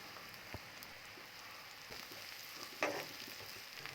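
Shallots, garlic and crushed chili frying in coconut oil for Kerala-style pappadam thoran, a faint steady sizzle with a few soft stirring clicks and one brief louder scrape.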